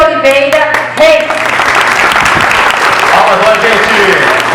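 A school event audience breaks into loud, dense applause that sustains throughout, with a voice speaking over the opening moments.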